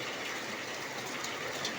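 Steady rain falls after a hailstorm on farmland, making a dense, even hiss at moderate loudness with no talk over it.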